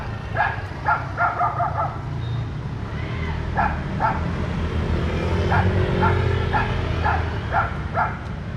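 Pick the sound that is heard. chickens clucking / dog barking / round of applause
dog barking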